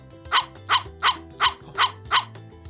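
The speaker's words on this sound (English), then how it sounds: "Do you hear my doggy?" A dog barks six times in a steady, evenly spaced rhythm, close and clear, over a low background hum.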